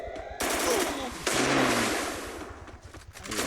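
Rapid gunfire bursts in the mobile shooter game Free Fire: two loud, dense volleys of automatic shots that fade and then pick up again at the end, heard up close.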